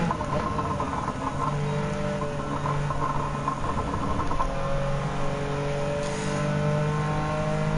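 Race car engines sound through a lap of Gran Turismo 7, holding a steady droning whine that shifts pitch with throttle and gear changes, loud and continuous with no speech.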